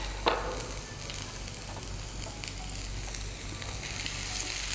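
Chopped garlic and ginger fry in a pan for an onion tomato chutney, a steady soft sizzle with faint stirring scrapes and light crackles throughout. No one speaks.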